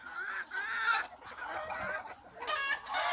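Gamefowl brood hens cluck in soft, repeated bursts close by, with a few sharper calls breaking through the quiet farmyard background.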